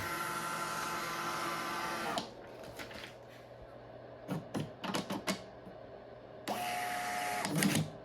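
A POS receipt printer powers on with a steady mechanical whir, then stops. A run of short clicking and clattering bursts follows, and the motor whir starts up again near the end, all close by.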